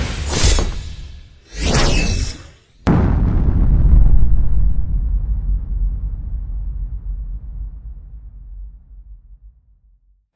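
A huge fantasy explosion of purple magic and hellfire: a whooshing build-up, then a loud shattering blast that rumbles on and slowly fades over several seconds, with no talking.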